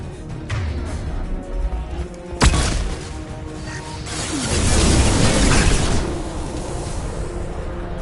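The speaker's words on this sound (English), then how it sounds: "Watch out, flashbangs." Flashbang grenades detonate in the Mass Effect video game, a sharp bang followed by a longer rushing blast and crackle amid battle noise, with no voices.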